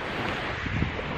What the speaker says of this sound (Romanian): admirăm marea asta nervoasă